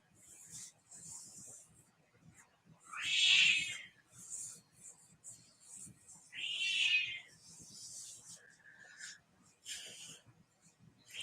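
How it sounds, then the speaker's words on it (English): A cat yowls from the next room, faint and distant, giving two drawn-out cries and a few softer ones over a quiet background. "My cat's in the next room yelling at me."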